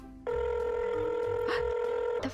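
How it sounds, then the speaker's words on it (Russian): Steady telephone ringback tone during a phone call in a Minecraft game, a sustained electronic tone starting after a short pause and holding clearly with faint background noise. "идёт гудки"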